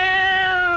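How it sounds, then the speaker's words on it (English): A male cat lets out one loud, sustained tonal meow, close to the microphone and heard alone. "That's a male cat."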